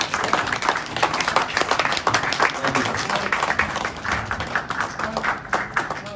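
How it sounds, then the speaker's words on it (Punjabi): A standing audience at a Punjabi Mother Language Day gathering claps steadily, a dense, loud patter of many hands that holds throughout without pause. "ਤਾੜੀਆਂ ਮਾਰ ਕੇ ਖੜੇ ਹੋ ਤਾੜੀਆਂ ਮਾਰ ਦਿਓ"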